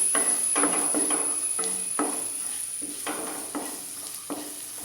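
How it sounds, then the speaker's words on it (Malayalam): Chicken filling being stirred in a pan with ground pepper and garam masala, a steady soft sizzle under repeated scraping strokes of a spoon, close and moderately loud, with no talking. "1/4 ടീസ്പൂൺ കുരുമുളക് പൊടി, 1/4 ടീസ്പൂൺ ഗരം മസാല ചേർത്ത് നന്നായി മിക്സ് ചെയ്യാം."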